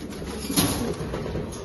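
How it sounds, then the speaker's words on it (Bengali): A racing pigeon coos and shuffles close by, a soft steady murmur with a slightly stronger swell midway through the short stretch, no voices over it. "অসাধারণ একটা কবুতর"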